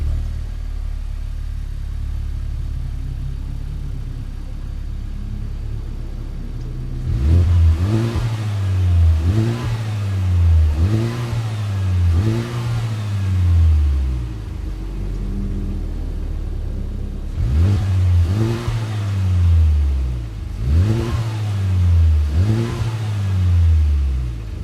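Honda Civic Type R exhaust, heard from behind the car: idle rumble, then two bursts of repeated rhythmic revs rising and falling, loud and close, with steady idle between them.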